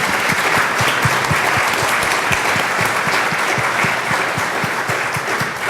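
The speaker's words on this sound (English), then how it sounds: "let's give a round of applause" An audience at a zoo talk about Fiona the baby hippo gives a round of applause, full steady clapping that stays loud and even before easing slightly at the end.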